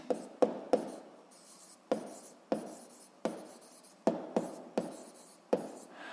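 Pen or pencil strokes writing an answer on paper, a dozen short taps and scratches in an uneven rhythm, close and fairly quiet, with no talking.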